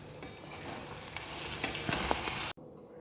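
Small fish chorchori with fresh coriander leaves is stirred in a pan. A quiet sizzle carries a few scrapes and clinks of the spoon, and the sound cuts off abruptly near the end.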